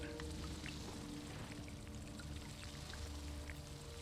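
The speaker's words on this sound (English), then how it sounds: "Do some water harvesting while I'm here." Water harvesting in the video game Dune Awakening gives a steady, soft pouring and trickling hiss with low machine hum beneath it. It runs continuously at low level with no speech.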